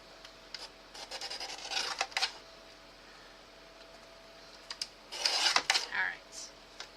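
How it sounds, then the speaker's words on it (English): Paper from an old music book is trimmed in short scraping, rustling bursts, two clusters of cutting and rubbing sounds separated by a quiet pause, close and fairly soft. "I'm going to trim this just a bit"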